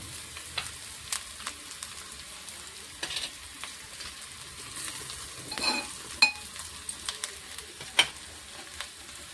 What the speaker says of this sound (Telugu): టమాటా వేసేసి ఉప్పు కారం వేసి కొంచెం ఉమ్మగెల్లిద్దామండి